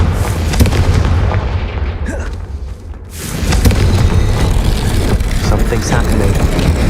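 A Confringo explosive spell in Hogwarts Legacy goes off as a loud, booming fiery blast, then a short dip and another rumbling roar of combat noise that fills the clip.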